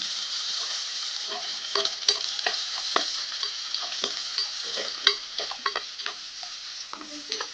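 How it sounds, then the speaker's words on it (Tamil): Onions are sautéed over a low flame for prawn aviyal, a soft continuous sizzle under frequent light scraping and clicking stirs. "ஒரு 2 நிமிஷம் லோ ஃப்ளேமில் அப்படியே நம்ம வதக்கி எடுத்துக்கலாம்"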